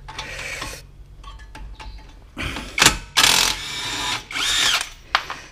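A power tool removes the 17 mm brake caliper bolts on a 2013 Hyundai i10 1.1 during front wheel bearing work, sounding as several separate loud bursts of whirring and ratcheting with short quiet gaps between them.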